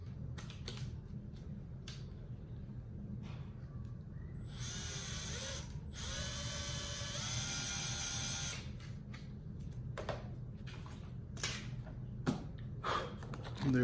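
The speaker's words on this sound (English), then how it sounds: "you drill through it" A power drill boring holes through a car mud flap on a 2019 Honda Civic, a steady high whine lasting a few seconds near the middle, surrounded by scattered clicks and handling taps.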